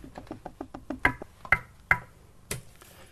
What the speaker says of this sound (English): Try knocking at the door.